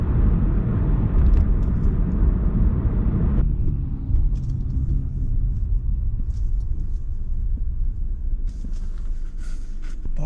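Light Sunday road traffic heard from a moving vehicle: a steady low rumble of tyres and engines. About a third of the way in, the higher road hiss drops off, leaving a softer drone with faint passing sounds.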